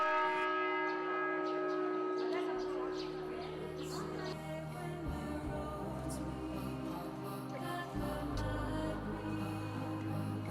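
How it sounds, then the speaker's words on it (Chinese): Bells of a Catholic church in a Tibetan village ring in long, overlapping, sustained tones that fill the whole stretch at a moderate distance. "随着教堂钟声的响起"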